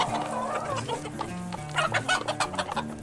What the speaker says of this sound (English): Way too many roosters in this bunch.